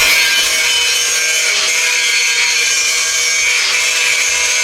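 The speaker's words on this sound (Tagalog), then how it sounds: "nililinis na niya ginagrind na" Grinder working over freshly welded steel window grills, a loud, unbroken high-pitched abrasive whine that stays steady and close throughout with no talking.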